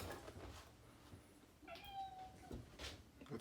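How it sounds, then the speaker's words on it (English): A house cat meows indoors, a soft, fairly quiet call rising over faint room noise, with a second fainter meow following near the end. "That's my cat."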